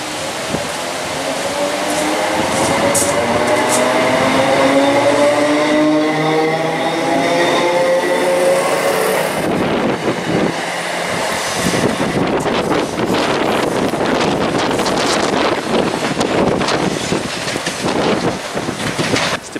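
Class 320 electric train running through Dalmuir station, loud and close, with a rising whine during the first half, then heavy rumbling and rhythmic wheel clatter, buffeted by wind noise on the microphone.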